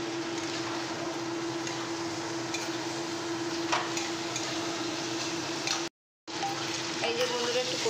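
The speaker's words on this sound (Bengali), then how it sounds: "এই যে বন্ধুরা একটু কষে নিচ্ছি" Pointed gourd fries steadily in a pan with chili powder and salt, a constant close sizzle with occasional stirring scrapes, broken by a brief cut of silence near the end.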